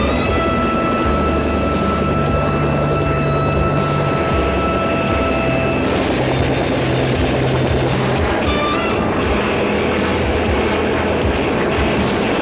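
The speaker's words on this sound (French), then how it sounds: "Max, un hélicoptère sur toi." A helicopter passes overhead in a French espionage crime drama, its steady engine drone and rotor noise filling the scene and shifting in tone partway through, with no speech.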